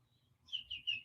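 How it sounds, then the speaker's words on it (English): Small birds chirp outdoors in two or three quick, thin tweets, faint and somewhat distant over a quiet background. "you guys hear the birds? It's so awesome."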